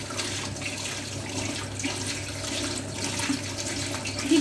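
Running tap water pours steadily into a sink as something is rinsed beneath it, a continuous close splashing rush that stays even throughout, with no talk.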